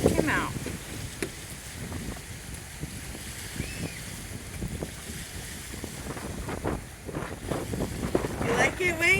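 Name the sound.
strong wind blowing into the microphone at a riverside park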